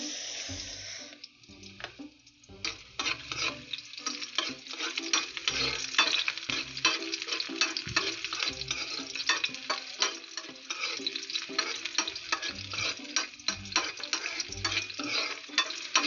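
Onions frying and being stirred in a pan while cooking an evening meal: close, continuous crackling sizzle with repeated utensil taps and scrapes against the pan, and no talking.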